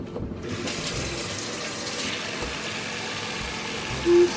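Tap water runs into a bowl to soak dried ingredients for pork monggo in a home kitchen, a steady close rushing stream that starts abruptly and continues, ending with a short tone.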